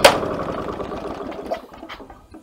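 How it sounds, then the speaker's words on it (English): A Victa Power Torque VE40 lawn mower engine with a fuel fault catches with a sharp burst, runs roughly for a moment, then sputters and dies away into quiet within a couple of seconds, close up with no speech. "the engine starts and stops straight away"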